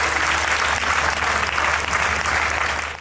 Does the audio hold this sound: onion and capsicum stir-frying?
no